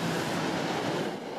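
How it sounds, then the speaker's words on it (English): Commuter rail trains rush past the closed Newtonville MBTA station, a steady, loud broadband rumble with no break or pause. "Commuter rail trains zoomed past the Newtonville stop this morning"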